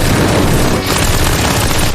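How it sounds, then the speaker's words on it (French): Sustained machine gun fire in an anime fight, a dense, loud, unbroken fusillade of rapid shots and booms filling the whole stretch. "T'as canardé dans tous les sens comme un demeuré."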